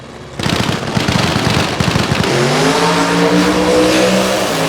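A big-block, supercharged, fuel-injected alcohol drag race car launches at Toronto Motorsports Park: a loud, crackling roar that builds into a sustained, rising engine howl, very close and alone.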